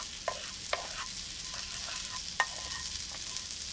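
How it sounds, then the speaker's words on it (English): Chopped onion, half a large one, frying in a pan while risotto is prepared, giving a steady soft sizzle with a few sharp clicks of stirring spread through a few seconds, no talk. "Then add half a large onion, chopped, and cook for 3 minutes."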